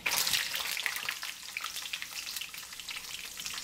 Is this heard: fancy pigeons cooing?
no